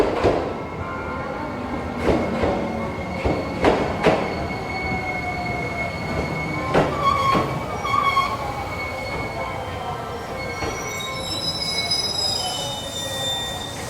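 An electric commuter train arriving at a station, heard from a moderate distance, with rhythmic wheel clunks over rail joints giving way to sustained high-pitched brake and wheel squeals as it slows, steady and unaccompanied by voices.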